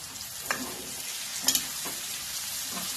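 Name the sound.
ghee sizzling in a pan with cauliflower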